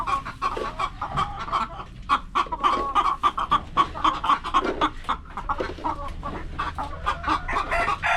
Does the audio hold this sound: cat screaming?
no